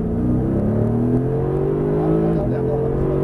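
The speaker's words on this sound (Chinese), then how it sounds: "深踩油门" A Mercedes-AMG GTS on Michelin Pilot Sport 4 S tyres accelerates hard around the Shanghai F1 circuit, its engine note climbing steadily and loud from inside the car, with a brief dip near the end.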